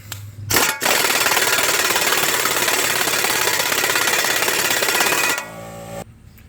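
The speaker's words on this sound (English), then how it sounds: "we're going to go ahead and get our axle nut back on." An impact wrench runs the axle nut onto a GMC Acadia driver-side CV axle in one loud, close, sustained hammering burst of about five seconds, then winds down.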